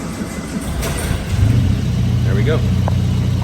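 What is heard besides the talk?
1958 Triumph TR3A engine cold start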